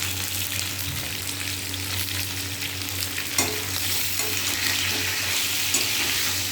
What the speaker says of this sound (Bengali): সামান্য একটু লবণ দিয়ে দেবো যাতে পটলটা তাড়াতাড়ি ভাজা হয়ে যায়।